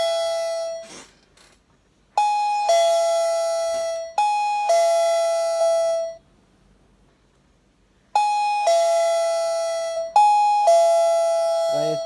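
An electronic warning device for entrances chimes a ding-dong four times at a steady interval, each two-tone chime loud, clear and ringing out before fading, with a brief voice heard beforehand.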